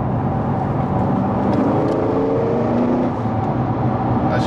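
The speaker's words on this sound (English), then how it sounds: "So if I pop it down a gear" Supercharged engine of a Holden HSV GTS revving after a downshift, a loud, steady roar with rising whine, heard from inside the car without talk.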